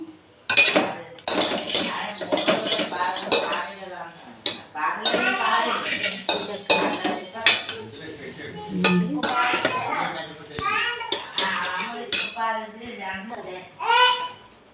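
Semiya vermicelli fried and stirred over low heat in a pan until golden brown, with steady metallic scraping and clinking of a spoon against the pan, close and fairly loud.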